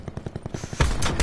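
Gunfire in the Call of Duty 4 video game starts as a rapid, evenly spaced burst of shots and then gives way to a few louder, heavier blasts at the end.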